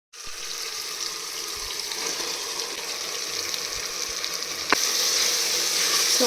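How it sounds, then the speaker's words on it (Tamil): Marinated chicken dropped into frying masala for Chicken Donne Biryani, giving a steady, close hiss of sizzling that swells a little louder partway through after a brief clatter. "இந்த ஸ்டேஜில் வந்து நம்ம மேரினேட் பண்ணி வச்சுருக்கிற சிக்கன் ஆட் பண்ணிக்கலாம்."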